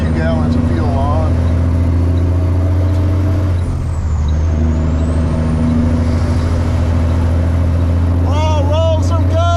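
A semi truck's engine is wound up, a heavy, steady diesel-like drone filling the low end, with brief airy whistling tones near the start and end while people talk over it.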